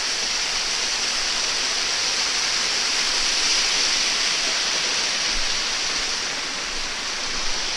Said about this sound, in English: It rains, goes on these mountains, and it comes down this waterfall.